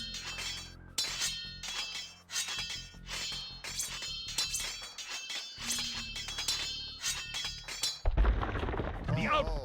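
Units attacking an English outpost in Age of Empires II: a rapid, repeating run of sharp metallic clinks and thudding impacts, loud and busy, ending in a rougher burst.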